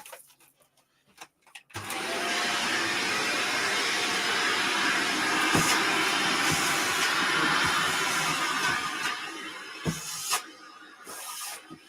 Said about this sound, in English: I'm just going to hoover this up